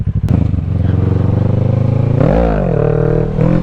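A dirt bike engine runs on a snowy winter ride, a loud close chugging idle that climbs into a sharp rev and then holds a higher throttle, with a short tap near the start.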